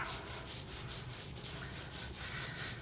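A wet, soapy felt blanket is rolled by hand in a steady rhythmic rubbing and brushing, the strokes repeating about every quarter second. The sound is close, soft and continuous, with no voices.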